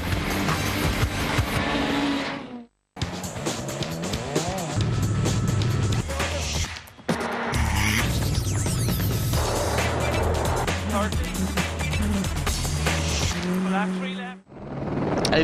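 Mitsubishi Lancer Evo 9 rally car racing a special stage of the 2013 ERC Rally Liepāja–Ventspils in Latvia, engine roaring steadily with passing surges and brief drops, beneath commentary.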